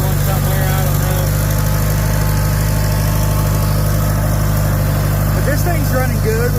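A vintage Farmall or International Harvester farm tractor engine idles and runs continuously, a deep rhythmic rumble with faint mechanical clatter on top.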